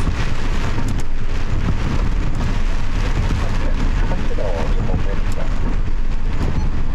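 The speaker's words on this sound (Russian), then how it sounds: "Вот это дождик." Heavy rain pours down in Japan during a sudden darkening storm with strong wind. A loud, constant roar of dense drops hammers a surface, steady and unbroken, with no voices.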